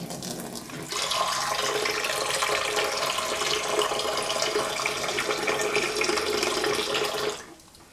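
Water runs steadily from a kitchen sink tap while tea is being prepared, a continuous splashing hiss that starts abruptly, holds at an even level for several seconds, then tapers off.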